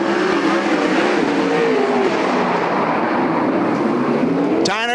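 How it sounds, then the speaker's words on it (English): Western Sprint Tour sprint cars racing at Sunset Speedway Park, a loud, continuous engine roar filling the whole span as the pack circles the track, with one car's revving note sweeping up sharply close by at the very end. "Kelly Miller going to get back on the gas"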